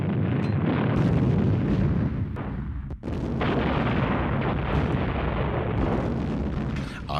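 German artillery guns firing, a dense continuous roar of booms and blasts that stays loud throughout, with one brief dip in the middle before the barrage resumes.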